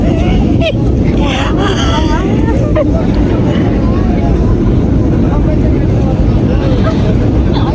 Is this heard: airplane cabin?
yes